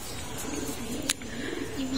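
Domestic pigeons coo softly nearby, a faint low burbling murmur broken by a quick chirp, in a quiet setting.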